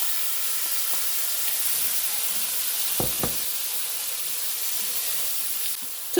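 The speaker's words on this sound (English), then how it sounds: "I'm just going to allow these to saute until they're soft" Chopped onions and peppers sauteing in a pan: a steady, even sizzle and hiss throughout, with a couple of brief clicks or stirring knocks in the middle, no talking.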